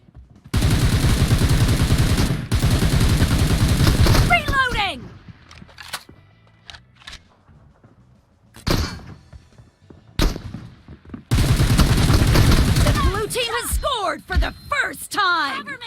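Bursts of automatic gunfire in PUBG Mobile, loud and rapid, in two long sustained volleys separated by quieter stretches with a few isolated shots, while a player talks over the action.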